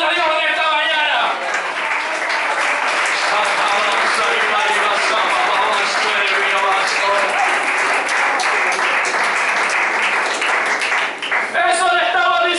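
A church congregation applauds during a Sunday morning service, steady dense clapping filling the room for about eleven seconds, with voices and music tones present at the start and end.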